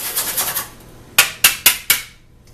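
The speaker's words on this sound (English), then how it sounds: "Then we're just going to whisk to combine." A whisk works quickly through dry gluten-free cornbread ingredients, including baking soda, salt and xanthan gum, in a bowl with a soft rhythmic scraping, then four sharp, close taps sound against the bowl.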